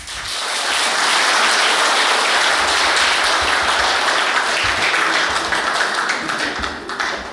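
A large crowd at a Hwanghae provincial youth association summer gathering gives a provincial residents' association chairman dense, loud applause that swells quickly and holds steady for about seven seconds before tapering slightly.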